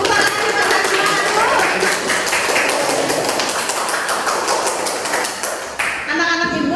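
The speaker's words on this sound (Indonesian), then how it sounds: "Tepuk tangan buat Najwa." Children in an Indonesian classroom applaud a classmate, a busy, uneven patter of many small hands clapping close by under a teacher's voice and chatter, with a quieter break near the end.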